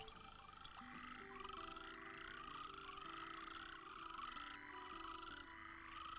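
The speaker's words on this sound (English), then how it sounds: "foam nest frogs chime in with a raucous chorus of love." Foam nest frogs in the wetlands of Namibia's Caprivi croak and chime in a raucous chorus, overlapping rhythmic bell-like calls repeating throughout, close and busy, with no voices.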